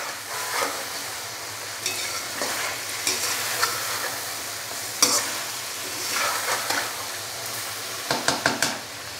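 Chicken frying with ginger garlic paste in a pan for a highway-style Afghani chicken karahi, a steady close sizzle broken by spoon stirs and scrapes against the pan, with a short burst of metal knocks near the end.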